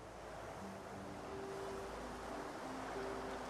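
Ocean waves from Divinity: Original Sin 2 wash in a steady, soft surf with a windy hiss, faint and continuous with no talk, while low tonal music notes drift beneath.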